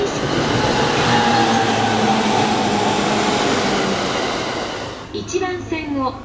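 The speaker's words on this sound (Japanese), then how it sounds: "1番線を列車が通過いたします。" A train roars past a Joban Line station platform in Japan at close range for several seconds, loud and rushing with wheel noise, then fades as a Japanese platform announcement begins.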